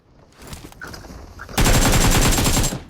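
Gunfire in the mobile shooter PUBG Mobile: after a stretch of quieter game sounds, one loud, fast automatic burst rattles for about a second, near and dominant.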